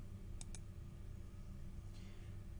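Two crisp computer mouse clicks close together near the start, made while editing in Photopea, followed by a fainter click later over steady low background hum.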